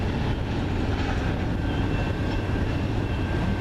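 CN freight train rolling past near Ladysmith as the end of the train goes by, a steady, loud, broadband rumble and rail roar with faint clatter, continuous with no talking.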